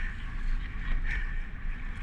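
Strong wind gusting at the water's edge of Deception Pass, a steady broadband roar with a swell around the one-second mark, loud and continuous with no talking.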